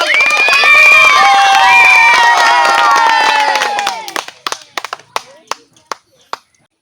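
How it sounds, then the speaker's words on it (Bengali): An audience bursts into loud clapping and cheering, with children's voices shouting high over the crowd at a game show. The applause then thins into a few scattered, separate claps that fade out. "একটি জোরদার হাততালি হয়ে যাও।"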